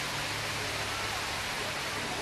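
Steady, dense rush of falling water from a man-made waterfall on the San Antonio Riverwalk, close and constant, with no talk over it.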